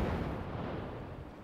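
Cannon fire in the Forts multiplayer fort-building game, a dull low rumbling boom that fades slowly and sits faint and distant, with no voices.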